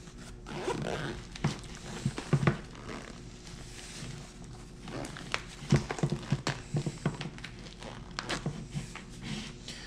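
Repeated zipper pulls closing a pouch on a tactical chest rig, several quick rasping runs in bursts close up, with light fabric rustle and handling between them.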